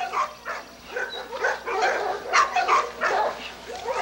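St. Bernard dogs at a kennel bark, yip and whimper in a busy overlapping chorus, fairly close and continuous with short bursts of louder barks.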